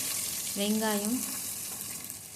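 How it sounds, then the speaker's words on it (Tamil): Bay leaf, cinnamon, stone flower, fennel seeds and two green chillies sizzle in hot oil inside a pressure cooker, a steady close hiss joined by a brief rising tonal whine. "பச்சை மிளகாய் 2 எடுத்து வச்சுருக்கேன், அதை போட்டு தாளிச்சுக்கிறேன்"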